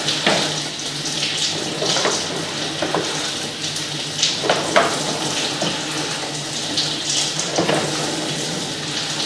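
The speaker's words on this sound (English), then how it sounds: "and obviously we're running water." Water runs steadily and loudly through a residential drain line, a continuous rushing wash with scattered clunks and splashes throughout, no voices.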